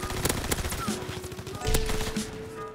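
A rapid-fire ORSO gun shooting in Call of Duty WW2, heard as close, quick bursts of gunshots with a steady tone running under them.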